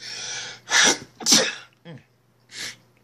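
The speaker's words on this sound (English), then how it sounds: "I got to sneeze." A person sneezes nearby in a few sharp bursts with breathy gasps between, no words spoken.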